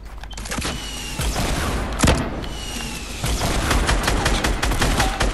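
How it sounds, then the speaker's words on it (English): Rocket launcher fire in the Fortnite battle royale game comes as heavy booms and explosive thuds inside a dense, chaotic barrage of gunfire and impacts that continues without a break. "I'm gonna shoot a rocket launcher in."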